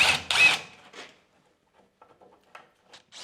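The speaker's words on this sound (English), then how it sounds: "I start drilling through the plug holes on the upright piece" A drill bores through plug holes in an upright wooden piece during a farmhouse demolition: two short, loud bursts of drilling at the start, followed by quiet, faint clicks and knocks.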